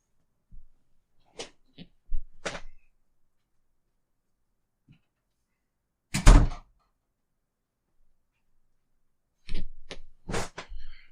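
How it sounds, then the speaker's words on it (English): A door is shut in a quiet indoor room: scattered soft clicks and knocks lead to one firm, close thump midway, followed by a few more light taps and handling noises. "I got to close my door first"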